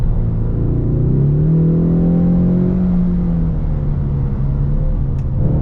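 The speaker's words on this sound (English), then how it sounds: "It has to downshift, and then there's a little bit of a delay, of course, for the turbo to spool up." A 2024 Ford Mustang EcoBoost turbocharged car accelerates after a downshift, a loud steady engine drone whose pitch climbs then levels off, heard continuously from inside the car.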